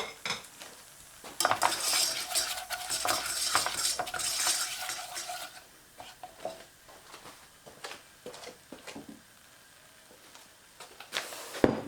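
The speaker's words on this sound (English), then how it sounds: "then you want to start adding milk in nice and slowly and keep it whisking" Whisk stirring milk into a butter and flour roux in a pan for cod in parsley sauce, a busy scraping and clinking for about five seconds, then quieter intermittent taps and stirs.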